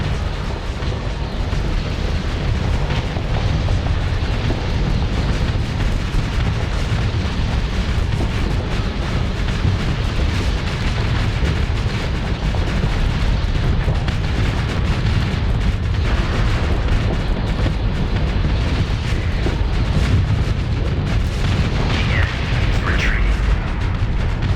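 Torpedo blasts in a Starsector space battle rumble in a dense, continuous barrage of loud booms and bursts with hardly any pause.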